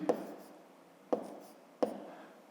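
A pen or pencil writes numbers by hand on paper, heard as three distinct scratchy strokes spaced about a second apart, close and fairly quiet, with no voice over them.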